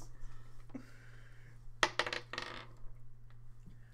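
Dice clatter onto a hard tabletop during a tabletop role-playing game, a quick burst of sharp rattling clicks and bounces over a low background hum, with no one talking.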